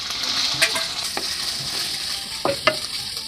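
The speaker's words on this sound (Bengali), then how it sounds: "দিয়ে দেবো পেঁয়াজ কুচি" Chopped onion with onion paste sizzles in soybean oil in a wok, a loud continuous frying hiss with a few scraping stirs of a spatula, close up and without talk.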